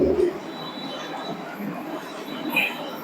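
Pakistani 35 pigeons, a Teddy pigeon variety, coo in low, soft murmurs close by. The cooing is steady amid faint background noise, with a slightly stronger burst at the start.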